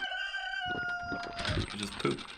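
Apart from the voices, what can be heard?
chickens clucking and rooster crowing in Beasts and Bumpkins video game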